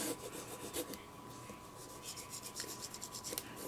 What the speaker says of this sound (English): you can rub it really good with your hand, with your tool